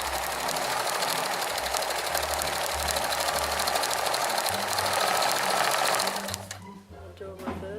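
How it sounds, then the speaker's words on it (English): A sewing machine runs a fast, continuous straight stitch up close, with a loud, even mechanical whir that stops near the end, leaving a few faint clicks and handling noises. "I will just show you some straight stitching."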